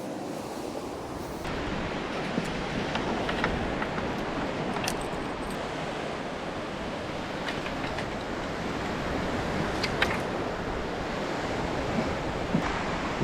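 Waves break on a Northumberland beach among patches of boulders, a continuous broadband roar of surf with gusting wind, steady and fairly loud, and no voices.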